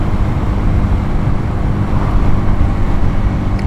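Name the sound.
small motorbike engine while riding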